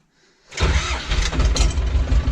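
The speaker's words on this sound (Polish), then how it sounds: "Najpierw ciągnik odpalę, włączę tu sobie wszystko." A tractor engine cranks and fires after a near-silent moment, bursting into a loud, close diesel rumble that settles into a steady, heavy idle.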